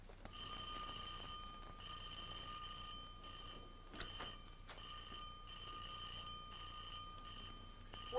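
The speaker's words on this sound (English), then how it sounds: "Why doesn't Richard answer that bell?" An electric doorbell in an old Shadow radio drama rings in long, steady bursts with short pauses between them, clear and continuous under a faint hiss.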